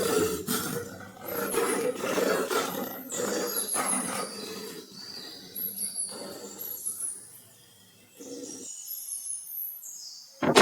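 An angry cartoon lion king in a forest roars loudly and repeatedly, rough bursts filling most of the stretch, followed by high chirping bird calls and a final sharp burst.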